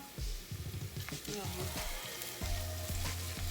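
Beans and beef stir-frying in a hot pan with garlic, giving a steady, close sizzling hiss that runs through the whole stretch with small crackles and bumps.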